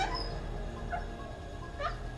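A dog in a Halloween movie whimpers with a few soft, high whines and yips, faint under a low, steady background rumble.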